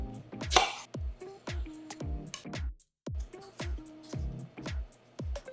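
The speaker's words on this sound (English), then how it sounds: "Just chopping the top and the tail" A knife chops ripe bananas on a board, topping and tailing them: about a dozen sharp, evenly spaced knocks of the blade, close and clear, with no voices.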